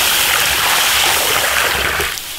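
Clean water pours into an iron wok, a loud, close rushing splash that runs steadily and eases slightly at the end, with no voices.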